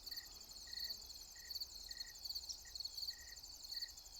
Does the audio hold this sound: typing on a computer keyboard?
no